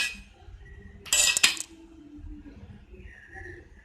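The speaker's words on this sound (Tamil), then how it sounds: "இப்போ ஓப்பன் பண்ணி பார்க்கலாம். மூடிய கேர்ஃபுல்லா ஓப்பன் பண்ணுங்க," A hot pot lid is lifted after steaming egg pudding, with a brief bright metallic clatter and clink of the lid against the pot amid quiet kitchen background.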